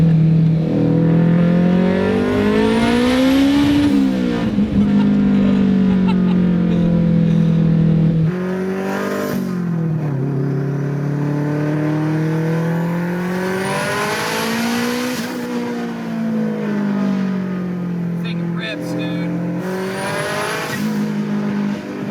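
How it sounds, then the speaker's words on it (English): A 500 hp all-wheel-drive Acura Integra accelerating hard, its engine note climbing steadily, dropping briefly at the shift into second gear, then rising again, loud and heard from inside the car. "This is easing into second gear."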